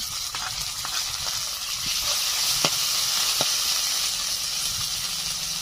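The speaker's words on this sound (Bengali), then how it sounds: "এখন দিয়ে দিচ্ছি আদা, রসুন আর কাঁচা লঙ্কা বাটা।" Ginger, garlic and green chili paste hitting a pan of browned onions for a Bengali village-style chicken curry, giving a steady hissing sizzle with a few light utensil taps.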